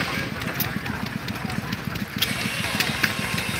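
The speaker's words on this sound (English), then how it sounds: "I just came on real quick to show how they were steaming up the steam engine" A 1904 Minneapolis steam traction engine steaming up outdoors at a steam show in Esko, Minnesota, giving a steady rapid low chuffing rhythm with faint hissing above, fairly close and continuous.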